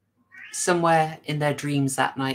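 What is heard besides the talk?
cat meowing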